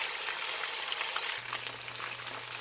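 Oxtails browning in a pan give a steady close frying sizzle throughout, with a low hum joining partway through and no voices.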